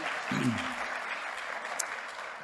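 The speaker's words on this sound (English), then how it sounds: "Applause for our platform committee." Audience at a university hooding ceremony gives soft, moderate applause, steady clapping at a distance with a brief low voice or thump early on.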